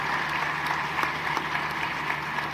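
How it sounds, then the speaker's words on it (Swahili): An audience applauds panelists at a women's event attended by the president, steady clapping from many hands that sounds moderately distant and continues evenly throughout. "Tunaomba tuwapigie makofi panelists wetu."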